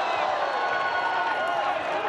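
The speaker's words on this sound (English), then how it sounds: "The crowd loving" Arena crowd at a women's MMA bout in Manila, Philippines, roaring and cheering steadily throughout, a loud dense wall of voices with commentary talk over it.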